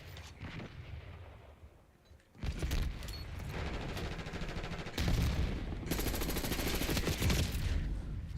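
Call of Duty gameplay: a quieter stretch, then dense, loud bursts of gunfire and booming blasts that come in heavy waves and stay intense to the end.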